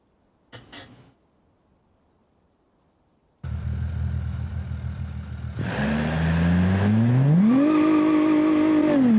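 A V6 engine in a front-wheel-drive wagon in the BeamNG driving game starts after a short click and idles roughly. It then revs hard, pitch climbing steadily to a loud, sustained high-rev drone near the limiter.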